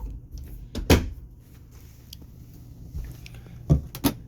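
Wardrobe doors inside a 2015 Jayco Eagle camper trailer are handled up close, giving a sharp bump near the start and then, after a quiet stretch, a pair of quick knocks as they shut.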